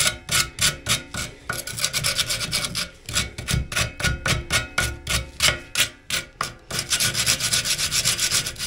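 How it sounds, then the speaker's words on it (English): Rhythmic back-and-forth rasping as an 80 grit sanding block is rubbed along the cut edge of a glass laser tube, steady strokes with brief pauses, close and moderately loud. "Just got a sanding block with some 80 grit on there."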